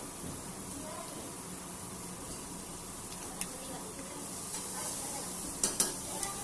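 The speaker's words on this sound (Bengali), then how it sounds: "চিলি সসটা দিয়ে এটা আমি ভালো করে মিক্স করে নেবো" Chili sauce being stirred into chicken tom yum soup in a pan, a soft steady scraping and simmering sizzle with a few sharp clinks of the utensil near the end.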